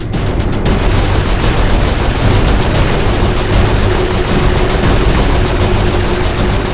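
A mounted turret fires at ships in the Saints Row 4 action game, a loud, unbroken rattle of rapid automatic shots lasting the whole stretch, close and dense, with no speech.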